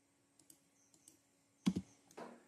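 Computer keyboard keys are pressed during AutoCAD 2021 drafting, a few faint isolated clicks followed by a louder double tap like the Enter key and one more soft keystroke, with no talking.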